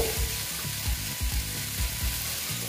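Egg and okra (bhindi) fry in a pan with a loud, steady sizzle, broken by rhythmic stirring scrapes roughly every half second.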